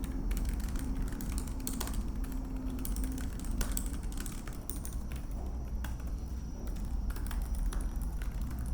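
Typing on the keyboard of an LG Gram 15Z90RT laptop, a thin machine with shallow key travel: a steady run of soft, close keystroke clicks over a low background hum, with no speech.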